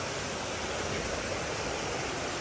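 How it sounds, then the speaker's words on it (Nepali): A river pours at Agate Falls in Michigan, a dense, constant roar of rushing water, loud and unbroken throughout with no other sounds. "यस्तो छ खोला मजाले बगेको छ यो खोला हेर्नुहोस्"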